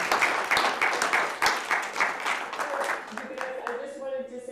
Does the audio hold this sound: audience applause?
yes